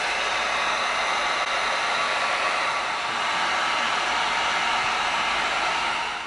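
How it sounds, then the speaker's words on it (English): Heat gun blowing hot air onto EVA foam for a gladiator helmet, a steady loud broadband whoosh held continuously at close range, with no voices. "We're going to get our heat gun out."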